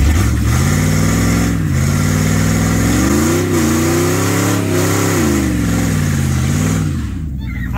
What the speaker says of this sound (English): He just did his first burnout.